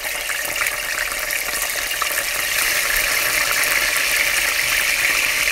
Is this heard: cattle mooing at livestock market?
no